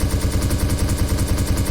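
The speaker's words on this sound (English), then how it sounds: "So now I can test guns if I want to." Guns being test-fired in the Roblox game Apocalypse Rising 2 give a rapid, steady stream of loud automatic shots, close and continuous, with no talking.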